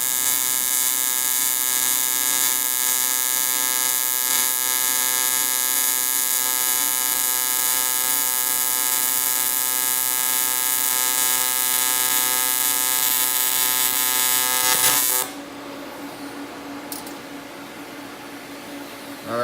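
AC TIG welding on aluminum at 140 Hz frequency with 70 balance gives a steady, loud electric buzz with a fixed pitch that runs for about fifteen seconds, then cuts off and leaves quieter room noise.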